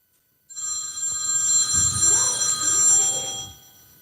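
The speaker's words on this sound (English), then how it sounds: "Let the phone ring an hour." A telephone rings with a bright, trilling electronic bell, loud and close, starting abruptly after a brief silence and sounding continuously for about three seconds before cutting off.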